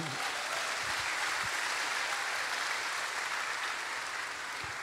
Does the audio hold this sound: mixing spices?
no